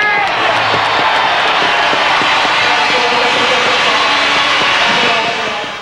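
A large indoor arena crowd roars and cheers continuously at a motorcycle trials event at Sheffield Arena, a loud, sustained wash of noise that holds steady before easing slightly at the very end.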